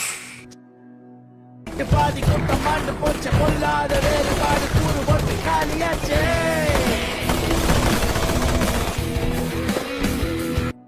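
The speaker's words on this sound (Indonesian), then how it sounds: "Suruli langsung memberondong peluru ke arah anak buah Peter hingga tewas." Rapid machine gun fire from a gangster film bursts out after a brief quiet stretch, loud and dense, tangled with the film's music and effects until it cuts off at the end.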